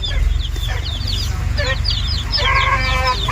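Desi hens clucking on a farm, several birds calling close by in overlapping bursts with brighter repeated calls toward the end, over steady low rumble.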